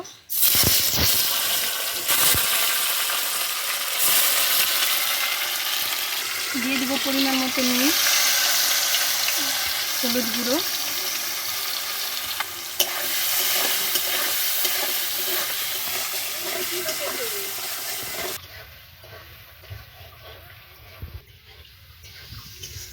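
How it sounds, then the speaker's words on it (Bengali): Paneer pieces sizzle steadily in hot oil in a wok (kadai) while someone talks over the crackle; the frying hiss stays loud and continuous, then cuts out near the end, leaving a quieter room. "কড়াইতে তেলটা গরম হয়ে গেছে। প্রথমে আমি পনিরগুলো দিয়ে দিব।"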